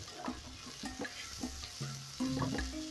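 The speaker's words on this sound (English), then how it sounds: "I'll go in with my chopped onion and the garlic. Then I'm going to cook this till the garlic is fragrant." Chopped onion and garlic sizzle steadily in a hot pan, stirred now and then with soft scraping clicks, close and fairly quiet with no talking.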